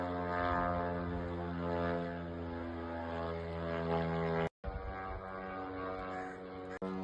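A drone flies over the Kama River toward Nizhnekamsk, a sustained buzzing engine drone with strong steady harmonics, loud and close, briefly cut off by a gap midway before resuming.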